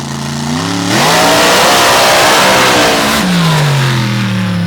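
A drag racing car with a 484 cubic inch Brad Anderson Hemi making around 3,500 horsepower, revving hard from idle into a roaring full-throttle blast and then dropping back to a lower drone. The sound is very loud and close.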